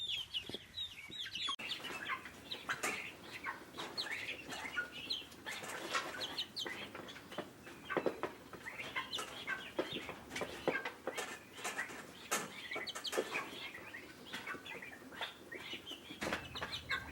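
Farm turkeys clucking and gobbling close by in a yard, with steady, overlapping calls, some wing flapping and short bursts of chatter and no talking.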